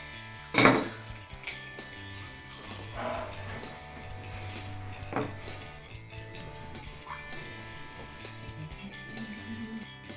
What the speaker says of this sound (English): put it to one side and we'll beat the egg